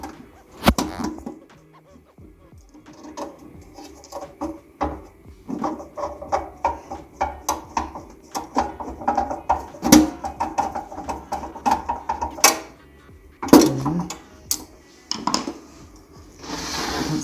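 Screw driven in while reassembling an espresso machine during a steam wand upgrade: close, irregular metallic clicks, taps and clanks of tool and parts, with quieter gaps between bursts of handling.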